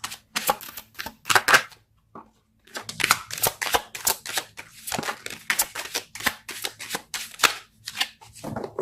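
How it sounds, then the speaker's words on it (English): A deck of tarot cards shuffled and pulled, a run of crisp riffling flicks and slaps in irregular bursts with a short pause, close and clear, with no talk. "Let's pull a card for your"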